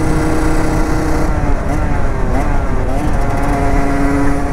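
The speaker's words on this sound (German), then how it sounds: "Komm, gib Gas, Zweitakter!" A 2017 Rieju MRT 50 two-stroke moped with a Tecnigas Enox exhaust buzzes loudly while riding, its engine note rising and wavering under heavy wind rush close to the mic.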